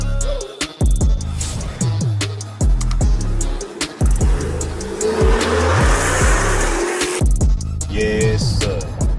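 A Hemi car revs hard and pulls away, its loud engine roaring up and down through several surges, with tires squealing as it drives off close by.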